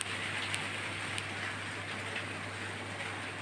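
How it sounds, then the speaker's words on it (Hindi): Heavy rain pours down outside a home kitchen, a dense steady hiss of drops on surfaces with a few sharper splashes and a low constant hum underneath, no talking. "बारिश फिर से बारिश आ गई ज़ोरदार।"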